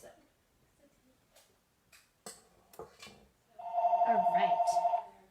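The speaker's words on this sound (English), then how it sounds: "And there's our phone." A telephone rings with a rapid, trilling electronic bell tone lasting over a second, loud and close in a home kitchen, following a few scattered clicks and knocks.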